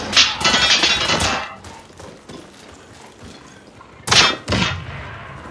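Gunfire in the online shooter Warface: a loud cluster of sharp shots at the start, quieter game noise through the middle, then two more heavy shots near the end, each with a short ringing tail.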